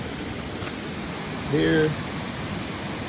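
Small waterfall on an icy trail, a light trickle rather than heavy flow, heard as a steady broadband rush throughout with a brief voice cutting in midway.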